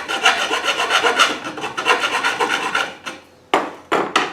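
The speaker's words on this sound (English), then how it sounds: "I'm basically going to just cut this in half. I'll show you my hacksaw here." Hacksaw cutting a piece of soft material in half, rough rasping strokes in a steady rhythm, close and loud, pausing near the end before a few final harsh strokes.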